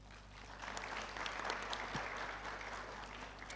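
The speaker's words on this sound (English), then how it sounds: "we need a round of applause" Faint applause from a seated crowd at a University of South Africa graduation ceremony held in Ethiopia, an even, sustained patter over a low electrical hum.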